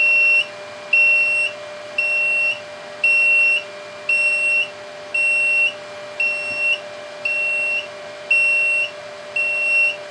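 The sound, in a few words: low voltage warning beep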